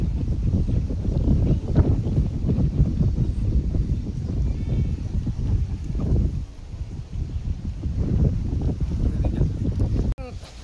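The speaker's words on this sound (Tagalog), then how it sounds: "Sobrang lakas ng hangin sa taas." Strong, high wind while flying a kite, a loud continuous gusty roar and rumble buffeting the microphone, with a brief sharp cut near the end.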